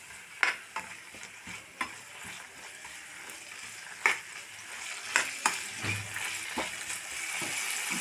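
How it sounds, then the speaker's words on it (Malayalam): Boiled bitter gourd sautés in coconut oil in a pan, giving a soft, low sizzle broken by irregular stirring scrapes and clacks from a spoon. "പിന്നെ നമുക്കിതൊന്ന് വാട്ടിയെടുക്കാം."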